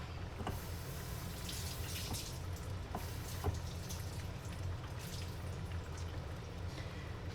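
Tap water runs steadily into a kitchen sink as a head of cabbage is rinsed under it, a soft continuous splashing with occasional drips, no voices.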